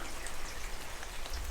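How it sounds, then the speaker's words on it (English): Rain falling on a rainy morning in Burgundy, a dense, even patter of drops hitting surfaces, continuous and moderately loud, with no voices. "it's a rainy morning here in the Burgundy"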